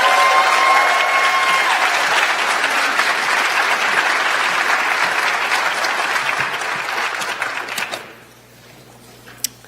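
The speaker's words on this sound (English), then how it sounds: "she deserves a loud round of applause" Loud, sustained applause from an audience at an academic achievement and scholarship awards night, a dense wash of clapping that holds steady for several seconds, then drops away abruptly near the end, leaving only a faint room tone.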